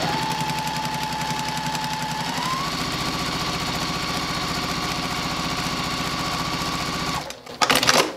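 A sewing machine runs steadily at close range, stitching a quilted Christmas stocking at a shorter stitch length with a fast, even mechanical whir, then stops near the end with a few handling clatters.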